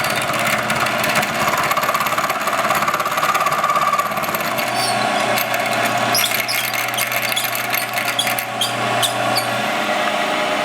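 Milling machine running as it squares up a piece of aluminum box tubing in a home shop, a steady close mechanical whir and grind with a low hum, no speech.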